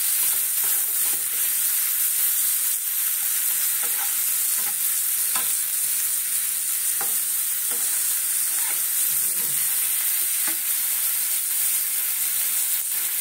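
Chopped and ground onions fry for a prawn malai curry, giving a steady loud sizzle with hiss and scattered pops and faint stirring scrapes throughout, no talk.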